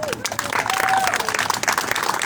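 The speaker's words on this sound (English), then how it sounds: "If you could give them a round of applause." Applause from a crowd at an outdoor peace march in Chester City, PA, a steady broadband patter of clapping with voices and cheers mixed in throughout.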